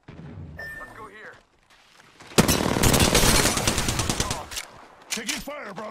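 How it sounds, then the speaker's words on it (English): Rapid automatic gunfire from the video game Apex Legends, a loud sustained burst lasting a few seconds and followed by a shorter burst, with brief voice lines before and after. "Taking fire, brothers."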